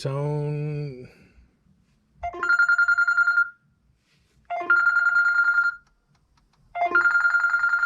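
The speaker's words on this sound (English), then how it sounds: "So sounds, ringtone." A phone ringtone plays three times through a Honda's car speakers via Bluetooth, repeated electronic bursts with pauses between, clear and prominent, following a brief low tone at the start.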